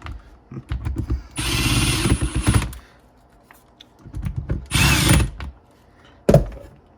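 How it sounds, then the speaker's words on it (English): An impact wrench running bolts down on a RZR front differential: two close, loud bursts of rattling power-tool hammering, each a second or so long, separated by clinks and handling noises, ending with a sharp metallic knock. "gonna run this down with the impact real quick"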